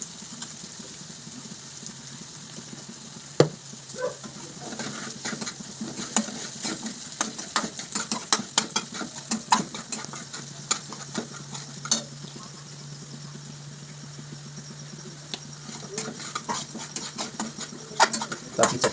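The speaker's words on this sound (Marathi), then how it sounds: "चटणी बऱ्यापैकी तेलात फ्राय झालेली आहे भाजलेली आहे" Chutney frying in oil in a pan for wild bitter gourd (kartoli) bhaji, a steady soft sizzle with frequent scraping and stirring clicks of a spoon, close and continuous throughout.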